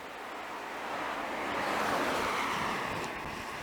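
Strong storm wind buffets the microphone of a delivery rider out in a tempest, a continuous loud broadband roar that swells toward the middle and stays steady, with no talking.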